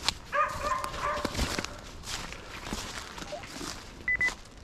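Hunting dog barking during a driven deer hunt in the woods, a few distant barks amid outdoor rustling and footsteps, with a brief whistle-like tone near the end.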